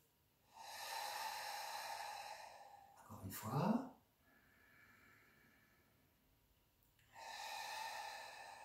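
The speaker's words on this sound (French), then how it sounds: "On inspire par le nez, en rentrant le ventre, et on expire par la gorge." Slow Pilates thoracic breathing, inhaling through the nose and exhaling through the throat: long, close, airy breaths at the start and end, with a short spoken phrase between them.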